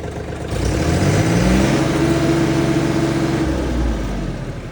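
A Mahindra tractor engine starts and settles into a steady, loud idle in neutral gear, with a low, rumbling drone that holds for several seconds before easing slightly.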